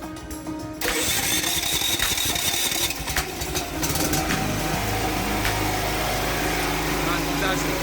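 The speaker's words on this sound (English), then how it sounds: "And it has started the generator." A generator engine cranks and fires up on its own when utility power is cut as part of an automatic changeover setup, then settles into a loud, steady idle that fills the rest of the clip.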